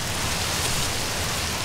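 Steady rain pours in the game Nehrim, a dense, even hiss of falling water that continues unbroken at moderate volume with no voices.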